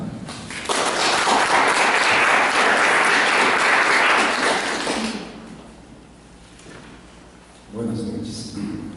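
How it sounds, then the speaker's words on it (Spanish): Strong applause from a conference audience at an international philosophy of science and technology congress, loud and dense for about four seconds before fading out, followed by quieter room noise and a brief voice. "recibámonos con un fuerte aplauso"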